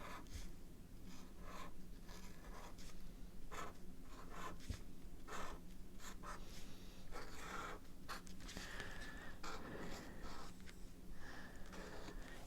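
A hand writing the word thankful in small letters, likely in gold on a watercolor leaf garland, a soft steady scratching of the pen heard up close over a constant low background hum.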